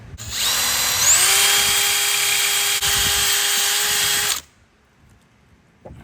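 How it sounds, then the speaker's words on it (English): A power drill with a large step bit spins up and whirs loudly and steadily for about four seconds, then cuts off, leaving quiet. "I'm going to use a large step bit on my drill."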